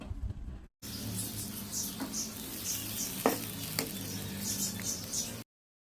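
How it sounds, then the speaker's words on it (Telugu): Raw banana slices coated in spice paste are stirred in a hot frying pan, a close, continuous sizzle broken by occasional scraping knocks of the spoon, with no one talking. "మొత్తం అంతా కూడా బాగా కలుపుకోవాలండి అరటికాయలకి మొత్తం పట్టుకునే విధంగా కలుపుకోండి"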